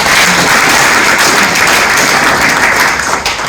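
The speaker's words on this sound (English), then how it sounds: "So I think you should give yourselves a round of applause." Audience applause fills a community morning tea with the WA police commissioner and the African community: a dense, steady wash of many hands clapping, loud and close, holding level throughout with no pause.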